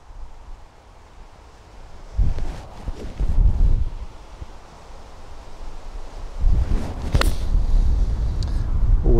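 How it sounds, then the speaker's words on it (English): Wind gusts rustle through trees on a golf course at Lundin Links in Fife, swelling in two broad surges of rushing noise over a low steady breeze with some microphone buffeting. "I'm not sure what this wind is doing. The flag looks still, but I can hear it amongst the trees there."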